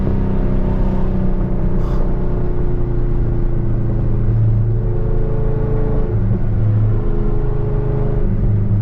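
A Chevrolet Camaro ZL1 engine drones loudly and steadily, a thick low rumble heard from inside the car with slight swells in pitch and no break.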